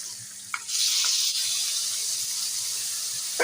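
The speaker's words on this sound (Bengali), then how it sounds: "পনিরগুলো একটু লাল লাল করে ভেজে নেব" Paneer pieces fry in hot oil with a pinch of turmeric over a high gas flame, giving a loud, steady sizzling hiss with a few light clatters at the start and end.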